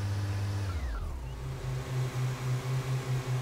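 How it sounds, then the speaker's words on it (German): In the Autobahnpolizei Simulator game, a police car's engine starts up after the handbrake is released, a low mechanical whine dropping into a rhythmic idling pulse, close and steady with no talk. "So, Handbremse lösen, Motor starten."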